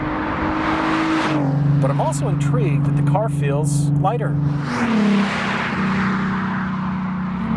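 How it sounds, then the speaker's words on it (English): A Nissan 370Z with a 3.7-liter naturally aspirated V6 drives under load, its steady engine drone holding through a gear change, loud and close inside the cabin while a person talks over it. "Most 370s are not this loud, but they do have this kind of power delivery"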